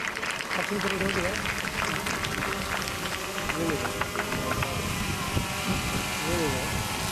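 A crowd of people at a police training school ceremony applauds, a dense, continuous patter of clapping heard throughout, with a voice speaking over it.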